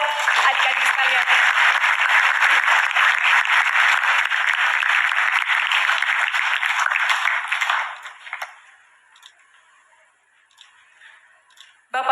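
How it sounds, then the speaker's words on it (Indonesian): A large audience claps for young students at a Scholas Occurrentes community dialogue with Pope Francis. The applause is loud, dense and sustained, then thins out and fades into near silence, with a brief burst returning at the very end. "Tepuk tangan buat adik-adik sekalian"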